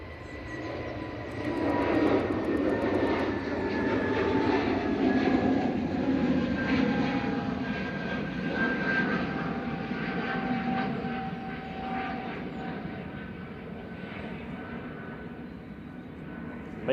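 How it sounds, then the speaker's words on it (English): An EasyJet airliner departs Manchester Airport bound for Jersey, a broad jet roar that swells after the first seconds and holds steady before easing slightly as it moves away. "EasyJet departing to Jersey"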